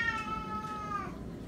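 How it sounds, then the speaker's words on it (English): A cat gives a single clear, drawn-out meow of about a second, close and alone against a quiet background. "And that's the cat."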